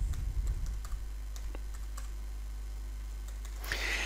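Keys on a computer keyboard are tapped quietly as a password is entered, a few sparse clicks over a low steady hum, ending in a brief quicker flurry.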